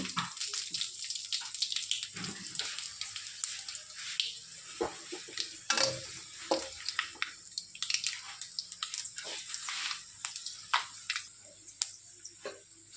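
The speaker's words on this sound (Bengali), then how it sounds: "পাঁচফোড়নটাও ভাজা হয়ে গেছে" Panch phoron and bay leaves fry in oil left over from frying kofta, giving a light, irregular sizzle with scattered pops and crackles.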